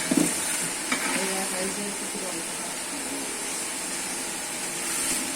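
Marinated mutton for a home-style biryani being stirred in a pot, a steady sizzling scrape with a few sharper knocks near the start and a broad hiss running under it throughout.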